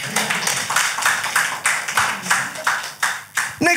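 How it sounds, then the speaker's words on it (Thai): Church congregation clapping in praise during a Thai sermon, a run of roughly even, rhythmic claps in a reverberant hall, sustained across the whole stretch. "ปรบมือให้กับพระเจ้าของเราด้วยกัน"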